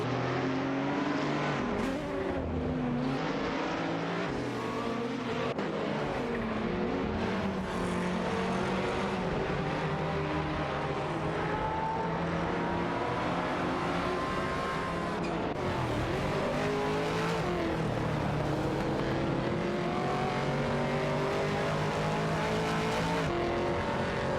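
Race cars including a Ford Mustang GT4 roar continuously in a racing video game, engine notes rising and falling through gear changes as several cars battle closely, loud and steady throughout.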